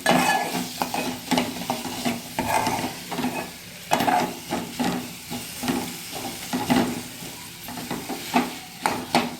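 Tomatoes and chana dal being stir-fried in a pan, a steady loud sizzle with repeated scraping and stirring strokes throughout, no talk.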